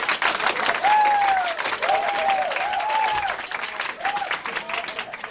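Steady applause from a party crowd voting by show of claps, loud and continuous for several seconds, with some voices and shouts mixed in.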